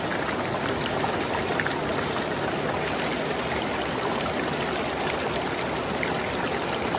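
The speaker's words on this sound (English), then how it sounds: "I have a little over a half a bucket of material. I'm gonna run it through" Water and gravel run through a gold prospecting sluice box in Connecticut, a steady close rushing and trickling wash with no break over the whole stretch.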